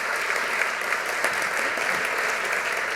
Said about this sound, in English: Can we give Michael a big round of applause?